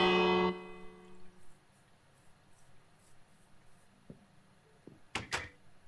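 A village bell in the video game Minecraft gives two quick bright metallic strikes near the end, following a short loud tone at the start and a few faint taps in a quiet setting.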